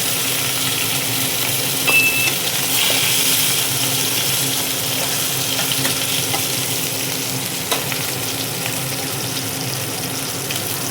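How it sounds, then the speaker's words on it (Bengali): Cumin, chopped garlic and chopped chili sizzle in hot oil, a loud steady frying hiss that runs continuously, with occasional small stirring clicks. "তেলটাও গরম হয়ে গেছে। দিয়ে দিলাম একটু জিরে, এবার দিয়ে দিচ্ছি কুচানো রসুন আর লঙ্কা কুচি।"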